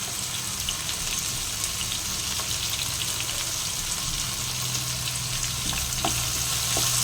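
Carrots, mushrooms and broccoli fry in a pan with a steady, close, even sizzle and crackle that holds throughout, with no talking.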